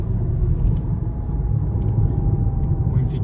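A steady low road rumble from an electric Peugeot e-208 accelerating from 0 to 100 km/h, with a thin high whine holding underneath and a few brief clicks.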